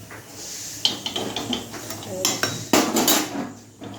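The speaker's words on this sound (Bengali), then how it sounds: "এবার কড়াইটা বসিয়ে দেবো।" A metal kadai (wok) is set down on a gas stove burner, giving sharp clanks and scraping metal knocks at close range, with a few louder impacts near the middle and end.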